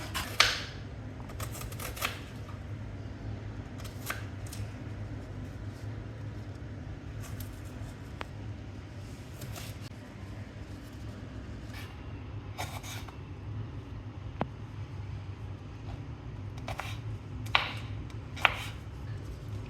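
Knife chopping onion on a cutting board at home, a series of sharp, irregular clicks and taps close by, spread through the stretch, with a steady background hum and no talk.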